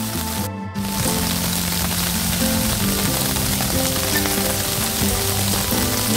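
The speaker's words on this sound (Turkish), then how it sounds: "Ya çok ciddi yağmura yakalandık." Heavy rain pouring down outdoors, a loud continuous hiss of drops striking surfaces close by, with music playing underneath throughout.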